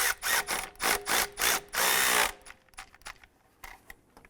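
A power tool drives an alternator bolt tight on a 2011-2018 Volkswagen Jetta, running in five loud whirring bursts and one longer pull, then quieter clicks and taps as it stops.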